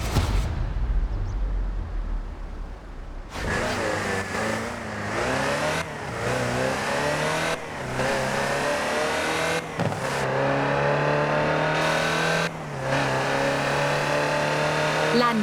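Land Rover Type 3 driving in Forza Horizon 4, its engine revving up repeatedly with sharp gear-change breaks, loud and close throughout.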